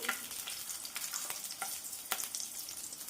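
Tomatoes frying in a pan with green chilies for a chutney give off a steady, close sizzle with light crackles and occasional stirring scrapes, alone without talk.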